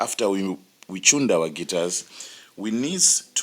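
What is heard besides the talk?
No everyday noise stands out behind the speech.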